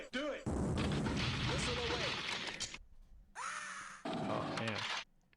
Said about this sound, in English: a nice missile there from Fear Turkey